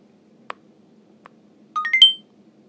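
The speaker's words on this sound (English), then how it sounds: "Sends a notification." iPaq H3760 pocket PC notification sound: two faint ticks followed by a short, bright rising electronic chime of a few quick tones, clean and close against near silence.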